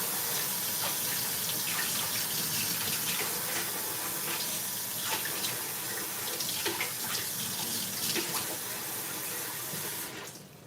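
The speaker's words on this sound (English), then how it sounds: "Gonna wash that." Water running from a tap while something is washed during cooking, a steady loud splashing rush with small shifts in the flow, close by, that stops abruptly at the end.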